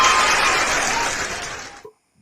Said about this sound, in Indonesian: Wah, tepuk tangan teman.